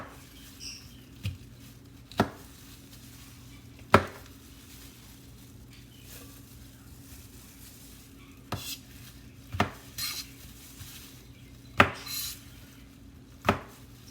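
Vegetables are chopped with a knife on a cutting board, giving sharp, spaced knocks at irregular intervals, fairly close, over a quiet background with no talking.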